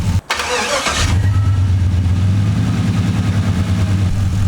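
A V8 engine cranks over and settles into a loud, steady idle with a deep, throaty exhaust rumble, close by and with no talking.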